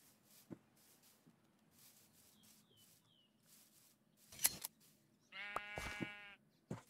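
A sheep in the Minecraft video game gives a clear, loud bleat near the end, after a quiet stretch of soft clicks, taps and faint game ambience.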